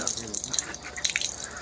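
Water is poured and splashed over a deceased body during ritual washing, running and dripping loudly at close range in a short, continuous gush.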